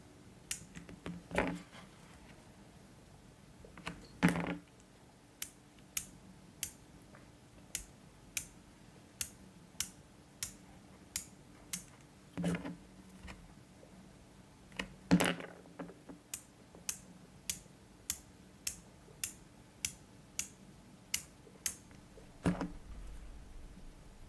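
A Brüder Mannesmann ratchet wrench from a 130-piece socket set, ticking in crisp, evenly spaced single clicks in a quiet room, close and sharp, with a few heavier handling knocks between runs.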